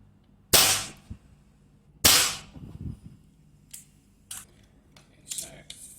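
A Crosman 1377 pump air pistol fires at seven pumps, two loud sharp cracks about one and a half seconds apart, followed by fainter clicks and handling noises.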